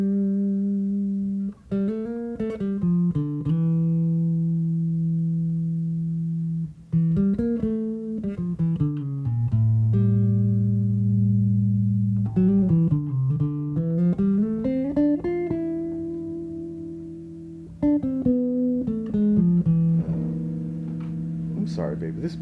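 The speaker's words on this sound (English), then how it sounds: "to have a bass that really sings, you know, when you hold a note and sustain it." Sustained melodic lines on a Gerald Veasley signature bass guitar, long singing notes with slides and bends, played steadily and fairly loud with no other sound around them.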